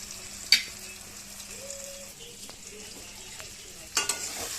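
Masala paste frying in oil in a home kitchen, a low, soft sizzle running steadily under two sharp metallic clinks of a spoon against the pan, one early and one near the end, with no talking.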